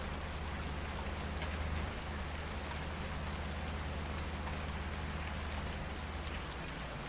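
Steady rain from the Farming Simulator 19 game world, a dense, even wash of drops pattering on surfaces with a low rumble underneath, continuous and alone without any talking.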